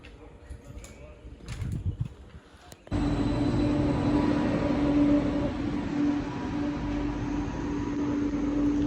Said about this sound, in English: This is the smallest train I have ever been in.